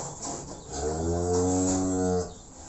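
A large Simmental cross cow in a barn lets out one long, drawn-out moo that swells and fades, heard close and alone.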